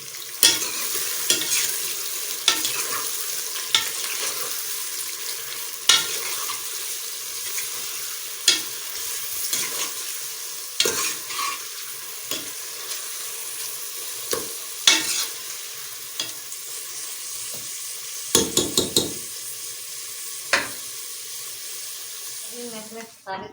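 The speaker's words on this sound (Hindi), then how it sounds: "मैं इसे सुनहरा होने तक फ्राई करूँगी।" Two onions fry in a pan until golden, with a soft continuous sizzle broken by repeated scrapes and knocks of a spoon stirring, close up and fairly quiet.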